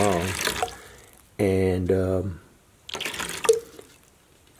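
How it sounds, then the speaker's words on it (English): Water pours and splashes into a mixing bowl for plaster in two short bursts, one clear and one fainter, close to the microphone, with a brief spoken word between them. "I put as much water in there as I think I'm going to need."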